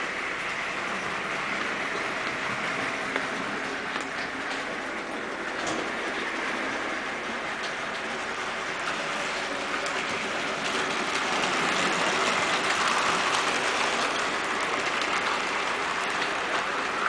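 A Bachmann Jubilee model locomotive, named Connaught, runs steadily on its track with a smooth, continuous mechanical whir and faint rail clatter that holds at an even level throughout.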